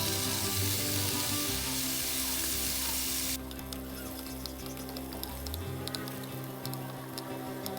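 Sliced carrots and potatoes sautéing in a pan used for bacon, a dense, close sizzle that runs continuously, bright at first and then settling into a softer crackling patter.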